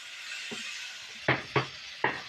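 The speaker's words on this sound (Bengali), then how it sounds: "এর মধ্যে মাছের মাথাগুলো ভেজে রেখেছি সেটা দিয়ে দেবো দিয়ে কিছুক্ষণ ধরে এগুলো সব কষিয়ে নেবো" Fried katla fish heads are stir-fried with spice paste in a pan. A soft sizzle runs underneath while the spatula scrapes and knocks the pan in four distinct strokes, the last three sharper and louder.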